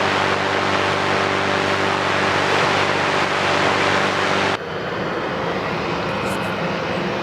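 An airliner at Sydney Airport, a loud steady engine roar with a broad hiss and low tonal hum that drops abruptly to a quieter rumble partway through, no talk.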